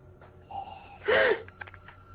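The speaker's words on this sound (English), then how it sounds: "To me, that sounds more like a rasp than heavy breathing." A short, harsh raspy breath or gasp swells up loudly for a moment in an eerie, quiet indoor recording, preceded by faint tones and followed by small scattered noises.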